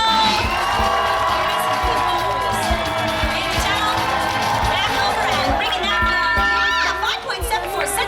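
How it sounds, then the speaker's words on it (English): A crowd of families and children cheers, whoops and shouts continuously at a dog race show at Universal Studios Hollywood, loud and sustained throughout. "The louder you cheer, the faster your dog will go."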